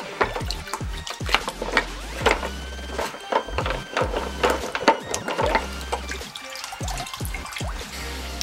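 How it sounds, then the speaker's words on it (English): Water rinsing Purple Power cleaner off a part of a Honda D16Y8 engine, with continuous irregular splashing, dripping and trickling close by, with no talk. "Let me give it a nice little rinse."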